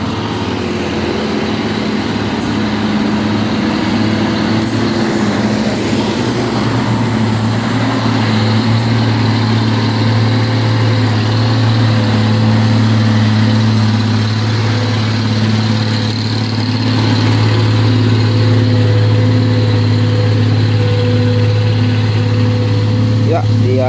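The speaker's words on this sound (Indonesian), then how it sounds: "Mudah-mudahan saja truk ini kuat menanjaki Bukit Kodok ini." A heavy truck labors up the steep Bukit Kodok hill, its low engine drone steady and loud with a strained, droning hum that rises slightly in pitch partway through; someone talks over it.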